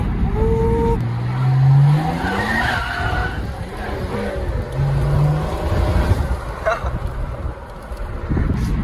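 A heavy car of about 1600 kg accelerates hard, its engine note climbing in pitch through successive gears, with surges and drops between shifts and some tyre and road noise underneath.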